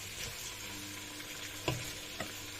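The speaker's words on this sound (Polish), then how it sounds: "Mamy wszystko w jednym garnku. Podsmażamy jeszcze trochę." Quiet, steady sizzling of goulash soup ingredients frying in a pot, with a couple of soft clinks of a utensil stirring.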